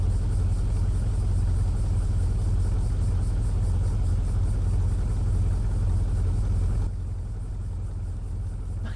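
Car engine idling steadily with a deep low rumble and a mid-range hum, close and continuous, dropping a little quieter near the end; no talking.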